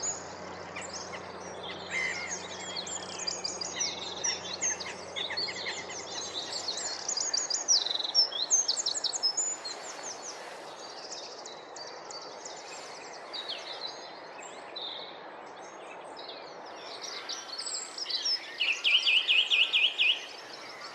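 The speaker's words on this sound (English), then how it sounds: "Several wren serenading me with their vibrant song, so loud for such a tiny bird." Several wrens sing loud, rapid trilling songs from trees and bushes at a spring nature reserve, with other birds chirping faintly through a steady outdoor background.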